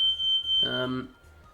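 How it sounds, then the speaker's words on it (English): A smoke alarm sounds in the background as a thin, steady high beep, with a brief spoken word cutting across it partway through. "Oh, sorry, that's a fire alarm in the background."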